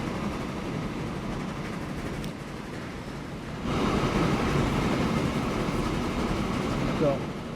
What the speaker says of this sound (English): all of those trams up there just busying themselves back and forth right now